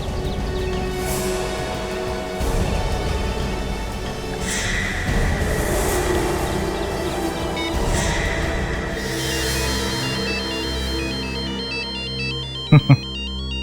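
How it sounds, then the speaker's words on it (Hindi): A phone ringtone plays a repeating electronic melody, loud and clear, over a backdrop of dramatic music in a Hindi TV crime drama. "नाम लिया और एसीपी साहब का फोन आया।"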